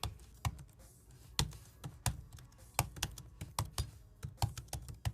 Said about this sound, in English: let me just give this keyboard a little touch